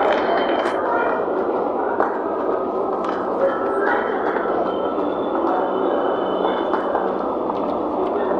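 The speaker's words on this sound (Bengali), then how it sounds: "চলে এসছে আমাদের মেট্রো" A Kolkata Purple Line metro train pulls into platform 1 on its first commercial run, a steady loud rumble with intermittent clanks and rail squeals, continuous throughout under station noise.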